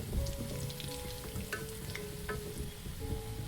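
Khasta goja pastries frying slowly in oil, a continuous dense bubbling sizzle heard close up, with a few faint crackles and no voices.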